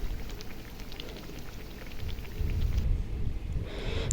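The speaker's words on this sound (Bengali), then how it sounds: "দেখুন কত সুন্দর ভাজা হইতেছে" Pakon pitha, a sweet fried cake made with semolina and egg, frying in hot oil: a steady, dense bubbling crackle that swells a little louder midway, with no voices.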